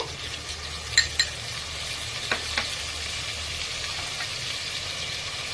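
Salt, turmeric and spices being stirred into a pot for a garlic and onion tamarind stew, with a steady background sizzle and a few sharp spoon scrapes and clinks against the pot.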